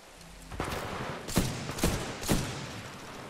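Sniper gunfire in Titanfall 2: three or four sharp, evenly spaced shots crack out at close range against a quiet background.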